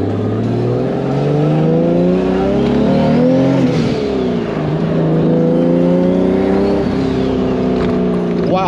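A Toyota MK3 Supra fitted with a Nashman Motorsports V2.5 short shifter revs hard through the gears, its engine note climbing, dipping at each shift, then rising again, loud and close throughout.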